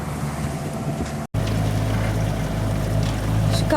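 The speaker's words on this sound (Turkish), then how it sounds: "Of büyük katamaran geliyor. Bizim yanımızdan da şu geçecek." Aboard a sailboat at sea near Symi, a large catamaran passes close by, heard as a loud continuous rush of wind, water and engine noise after a brief cut.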